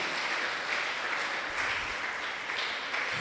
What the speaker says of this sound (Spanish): Alguien de un aplauso a papá. Aplauda